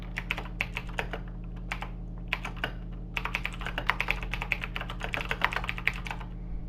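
A computer keyboard is typed on in quick, close clicking bursts, irregular keystrokes with a short pause, over a faint steady hum.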